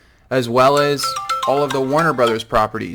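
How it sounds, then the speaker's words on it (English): A phone rings in the room during a spoken recording about streaming services, a repeating electronic tone partly masked by someone talking over it. "Sorry for that phone call there."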